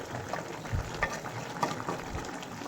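Fish curry with red amaranth stems simmers in a pan, giving a soft, steady bubbling hiss with small intermittent pops and light sizzling throughout, close and low in level.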